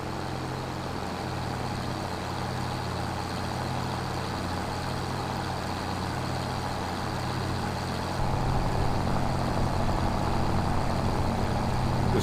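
A loud tractor pulling a slurry sprayer in Farming Simulator 25 rumbles steadily, a continuous heavy engine drone with a deep low hum that grows slightly louder and rougher partway through.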